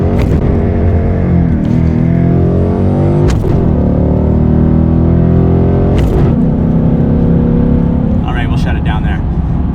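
A Ford Mustang GT with an MBRP 2.5-inch resonator-bypass X-pipe exhaust accelerating hard, its loud, deep engine note climbing through gears with sharp breaks at each shift, heard from close up.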